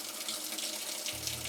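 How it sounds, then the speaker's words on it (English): A Whirlpool washing machine fills with hot water: a steady, close rush of water pouring in, constant for the whole short stretch with no talking. "If the washer starts taking hot water"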